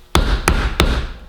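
Hammer strikes drive a fitting down against an anvil while building a racing catamaran: three sharp, loud metallic blows spaced evenly about a third of a second apart, each ringing briefly, with no talk.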